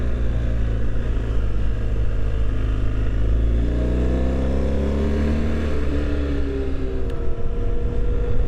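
A motorcycle ridden on a chilly but sunny winter day, the engine loud and continuous, with rising revving tones and steady wind rumble throughout and no voices.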